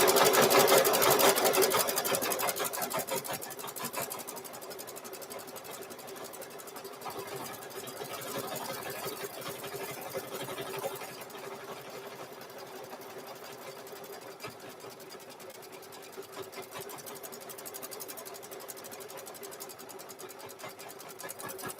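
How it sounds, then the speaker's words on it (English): A home sewing machine runs a satin stitch on hoodie fabric, a fast, even mechanical whir with a steady rapid needle rhythm running for the whole stretch, close and clear, slightly louder at the start. "We're going to try and run that last satin stitch again."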